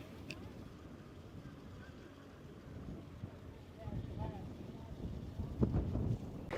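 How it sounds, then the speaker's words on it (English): Strong wind buffets the microphone high above the Colorado River near the Hoover Dam, a steady low roar that swells louder in the final seconds, with faint voices underneath. "It is so windy up here."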